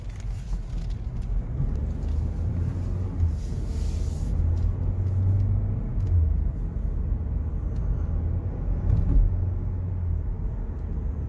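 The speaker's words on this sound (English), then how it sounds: "Let's go ahead and take it for a little test spin." A 2018 Chevrolet Equinox LS on Michelin tires rolls along on a test drive, heard from inside the cabin as a steady low road rumble and engine drone.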